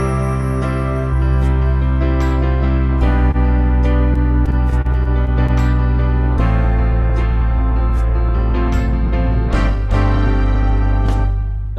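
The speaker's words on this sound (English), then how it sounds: "if I put on a style called soft gospel," A Lowrey organ plays a soft gospel accompaniment style, with full sustained chords over a steady bass and light rhythm backing, loud and continuous.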